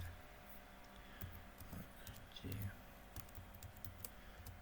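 Keys clatter on a computer keyboard in quick irregular bursts while someone writes a PySide6 script, the clicks fairly faint against a low background hum.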